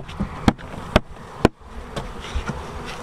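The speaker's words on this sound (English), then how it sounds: "As you can see, there's still some bees left in it." Honeybees buzz steadily close by inside a swarm trap, with a few sharp knocks and thumps as the trap is bumped breaking through the low hum.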